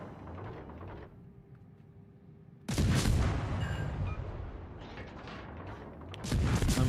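Battleship shell salvos firing in the naval combat game World of Warships: Legends, heard as heavy booming blasts that break in abruptly and rumble on, loud and close, with a quieter lull before.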